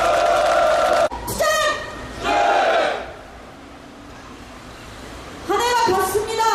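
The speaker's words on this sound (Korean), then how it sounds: "큰 박수로 모시겠습니다" Rally crowd at a non-regular workers' union protest outside a corporate building in Seoul, cheering and shouting in loud bursts with a quieter stretch in the middle, voices raised together.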